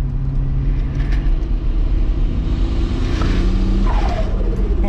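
A VR6 turbo wagon engine accelerating on about 3 psi of boost roars loud and close, a dense, rising exhaust drone with turbo whooshes throughout.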